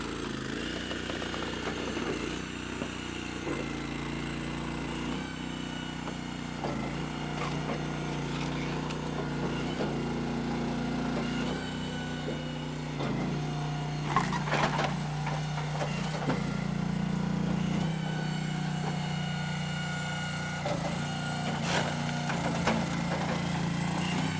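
A gas-powered log splitter runs steadily with a constant engine drone while firewood is split, with brief cracks and knocks of wood near the middle and a continuous mechanical hum throughout, no talking.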